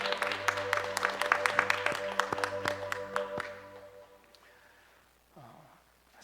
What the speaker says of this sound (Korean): 영광의 박수를 하나님께 드립니다.